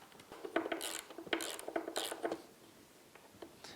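A ratchet with a 10mm socket backs out the bolts holding the carburetor bank on a Yamaha 90 outboard, giving quick, close metallic clicks and clatter in uneven bursts with no talking.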